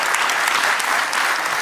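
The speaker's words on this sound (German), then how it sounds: "20 Jahre hat sich ein Applaus verdient" Steady, dense audience applause fills the hall at a Schlager TV show celebrating a band's 20th stage anniversary, loud and unbroken across the whole moment with no talk over it.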